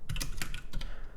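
Fast typing on a computer keyboard, a string of close, crisp key clicks in uneven bursts with a short pause in the middle, heard alone.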